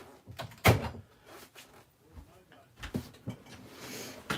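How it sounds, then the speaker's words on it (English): A door is shut in a home craft room, with one sharp thud early on and some softer knocks and shuffles afterward, mixed with quiet speech. "Let me just shut my door here because they're making noise coming in."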